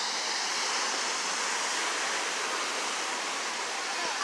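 Ocean surf rolls onto the sand at Cardiff by the Sea beach in San Diego, a steady, full, close wash of breaking water with no clear gaps between waves.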